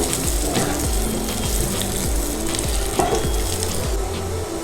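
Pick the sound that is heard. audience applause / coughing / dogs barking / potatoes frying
potatoes frying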